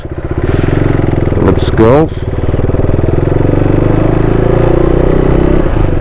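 Motorcycle ridden on mountain roads in Ooty, a loud steady engine drone with wind rushing close to the rider throughout, and someone speaking briefly near the start.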